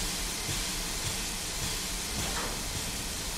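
A constant broadband hiss of steam released from a locomotive in a train simulator game, continuous and fairly loud with no clear pauses.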